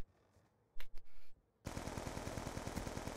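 Rapid automatic hip-fire gunfire from a Call of Duty: Black Ops 2 match begins after a few short bursts of noise and continues as a loud, dense, continuous rattle to the end.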